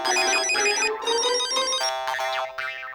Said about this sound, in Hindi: टप्पू का फोन तो उठा।